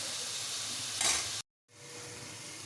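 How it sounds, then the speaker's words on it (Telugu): Masala frying in oil for a chicken gravy curry gives a steady close sizzle and hiss that swells briefly before cutting out, then resumes quieter. "ఒక ఫైవ్ మినిట్స్ మసాలాను ఆయిల్లోనూ ఫ్రై చేయాలి"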